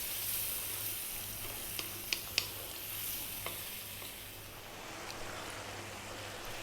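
Chickpea curry (chana masala) cooking on high heat gives a faint, steady sizzle and bubbling, with a few soft clicks of stirring scattered through.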